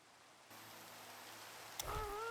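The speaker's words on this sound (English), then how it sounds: "It is dark and rainy" Steady rain hisses in the Minecraft video game on a dark night, a constant close wash of noise that starts a moment in, with a brief squeaky creature call near the end.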